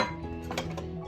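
Pieces of meat are dropped back into a cooking pot with a few quick metallic clinks and clatters of pot and utensil, soft and close, with no talking.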